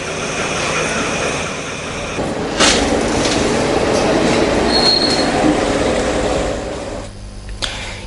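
A train runs along railway tracks on a Colombo Fort to Polgahawela line in Sri Lanka, a loud, steady rolling rumble with wheel squeal and faint clatter that dips briefly near the end.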